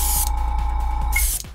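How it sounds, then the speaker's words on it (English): A cheap hobby airbrush sprays at full blast, a loud continuous hiss with a steady tone, briefly interrupted and then cut off near the end. "much wider spray on full blast, which is good"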